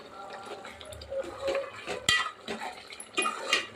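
A ladle stirring Andhra-style mutton curry in a metal pot, scattered clanks and scrapes against the pot with soft wet squelches, close and irregular.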